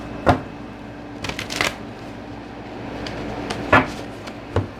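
Oracle card deck being shuffled by hand, a few separate quick riffling bursts spaced apart, close and clear against a quiet room.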